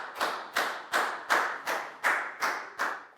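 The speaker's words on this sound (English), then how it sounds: "High five and a big round of applause for Pak Bung" A Year 4 maths class claps in unison, eight sharp, evenly spaced beats about a third of a second apart, close and clear with no talk.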